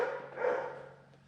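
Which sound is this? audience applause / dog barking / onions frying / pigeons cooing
dog barking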